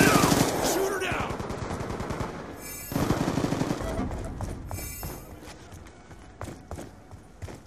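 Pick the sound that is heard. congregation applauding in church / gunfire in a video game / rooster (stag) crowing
gunfire in a video game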